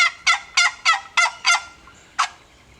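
A chalked wooden turkey box call imitating a gobbler gives six quick raspy yelps in a steady rhythm, then a pause and one last yelp, loud and close with no talking.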